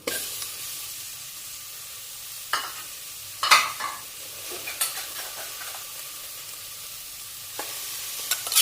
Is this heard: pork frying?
yes